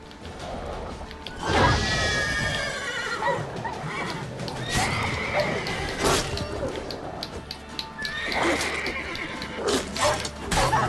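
Repeated loud horse whinnies in the video game The Witcher 3: Wild Hunt, three distinct calls spread over several seconds, mixed with hoof clatter and thumping sounds, without speech.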